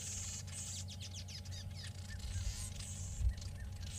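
Busy chorus of weaver birds chattering and chirping continuously, with short twittering calls layered over a low steady background hum.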